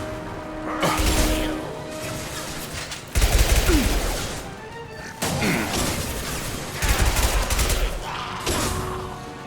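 Repeated bursts of gunfire in Mass Effect 2 crack out in several loud clusters with short gaps between, mixed with mechanical clatter and crashing impacts.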